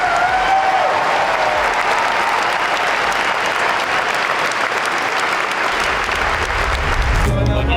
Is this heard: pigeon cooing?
no